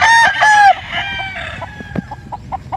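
Young chickens, still without feathers, at a breeder's pens give loud high cheeping calls up close, followed by a run of shorter, fainter peeps.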